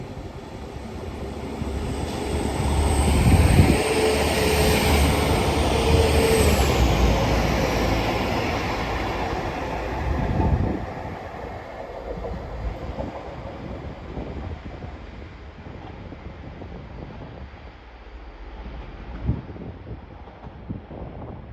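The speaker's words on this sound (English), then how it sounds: "Now departing is the 1523 Northern service to Blackpool North. Formed of 195-116." A Northern Class 195 diesel multiple unit pulls out of York station on the East Coast Main Line, its engine swelling into a loud, steady drone before fading away, with wind buffeting the microphone.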